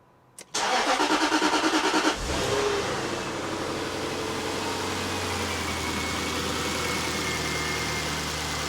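A cold Jaguar XK8 engine cranks with a rapid rhythmic churn for under two seconds, catches, briefly flares, then settles into a steady, even idle heard close up with no talking.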